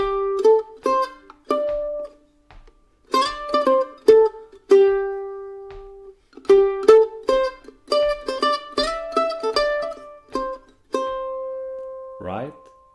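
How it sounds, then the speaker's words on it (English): A mandolin picks a single-string melody in short plucked notes and brief tremolo runs, close and clear with pauses between phrases, no talking. "if I play this melody with like a single string"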